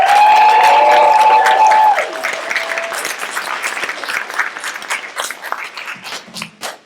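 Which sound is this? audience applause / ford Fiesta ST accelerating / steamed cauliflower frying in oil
audience applause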